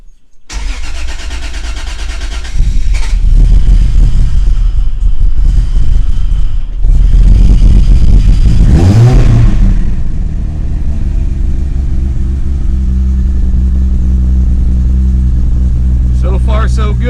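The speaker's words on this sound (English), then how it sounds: "this is as cold of a cold start as I'll be able to do right now" Cold start of a turbocharged Lexus SC300 engine: a cranking burst catches into a loud, close idle, followed by a sharp rev that rises and falls before settling back to a steady rumbling idle.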